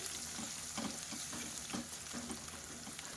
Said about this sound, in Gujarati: સરસ લસણને આપણે સાતળી લેવાનું છે